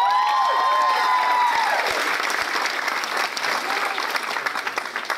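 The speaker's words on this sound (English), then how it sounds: "deserve an even stronger round of applause" Wedding guests applaud for the bridesmaids, a loud dense burst of clapping from a full room that continues throughout, with a faint tonal ring sounding over the start.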